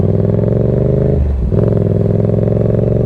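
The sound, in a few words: motorcycle making a U-turn on a test course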